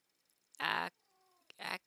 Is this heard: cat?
yes